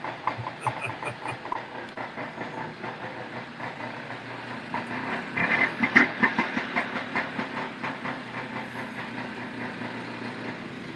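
A vintage snowmobile engine idles nearby with a steady, rhythmic chugging and hiss that swells briefly in loudness before settling back to an even putter.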